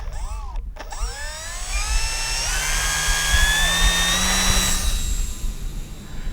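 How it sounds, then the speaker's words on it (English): A Durafly Excalibur V2 RC plane's electric propeller motor whines steadily, the pitch sweeping upward and holding high and loud close by after a brief pause at the start. "let's turn the prop back on"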